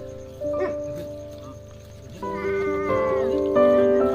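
A cat meows repeatedly at a village farm gathering, with loud, drawn-out, wavering calls that rise in the second half, close by and mostly alone over faint background noise.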